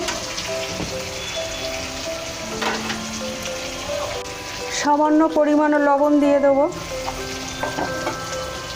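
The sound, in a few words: potatoes frying in oil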